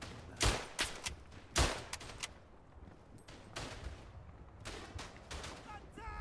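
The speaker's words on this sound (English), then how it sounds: "Oh, that was some quick shooting." Rifle gunfire crackles in a World War I trench battle in the Verdun video game, with several sharp loud shots early on and more distant rapid bursts following over a low battlefield rumble.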